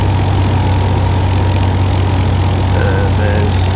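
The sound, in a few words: light aircraft engine reduced to 1500 RPM on approach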